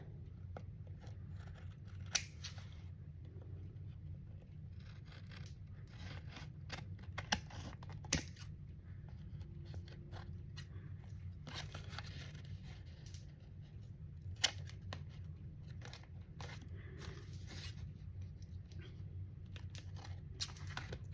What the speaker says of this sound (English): cut this straight. cut off the sides.